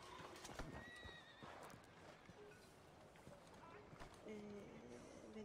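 Horse hooves clip-clopping in a video game alongside repeated neighs and whinnies, quiet and mixed with other game sounds throughout.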